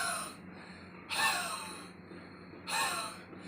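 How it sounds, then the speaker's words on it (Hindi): Two forceful open-mouthed huffs of breath, a breathing exercise resembling a cough, each a short breathy rush spaced about a second and a half apart, close and alone. "हफिंग में आपको मुंह खोल के खांसने की कोशिश करनी है।"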